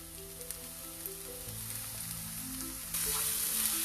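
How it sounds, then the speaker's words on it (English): Onions sautéing in a pan, a steady close sizzle and frying hiss that grows brighter and louder toward the end, with no voices. "We'll saute these till the onions are fried properly."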